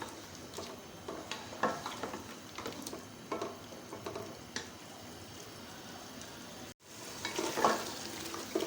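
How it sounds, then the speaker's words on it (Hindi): Chicken pulao masala fries and is stirred in a pot, a soft continuous sizzle broken by repeated scraping strokes, with a brief gap and a louder burst of frying after it. "खूब अच्छी तरह से भूनें इसको।"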